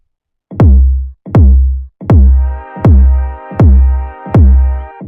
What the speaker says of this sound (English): That's just a 4 on the floor kick.